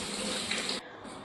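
Tap water runs into a sink while tea dishes from the night before are washed, a steady close gush that cuts off partway through, leaving a quieter splash and trickle.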